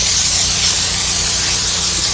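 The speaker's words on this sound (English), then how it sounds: "some people just don't like really spraying a lot of the solution" Tire cleaning solution sprayed in a steady, continuous hiss from a spray bottle or pump sprayer onto a vehicle tire, loud and close, with no voices.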